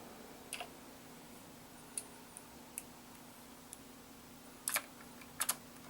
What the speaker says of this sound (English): Let's screw them into place. So you do these two back screws.